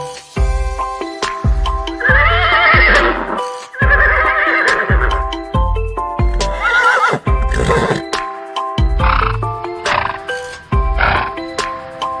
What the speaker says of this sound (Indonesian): Beginilah suara kuda.